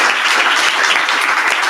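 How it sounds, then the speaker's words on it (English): Audience at a datathon event against racism breaks into spontaneous applause, a thick continuous wash of many hands clapping, fairly loud and even throughout with no talking over it. "Another spontaneous applause."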